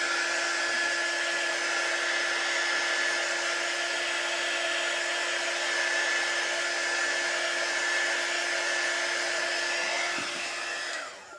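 A hair dryer blows steadily on a chalk-paste craft project, a continuous loud whirring drone with a strong hum that runs unbroken for the whole stretch before cutting off at the end.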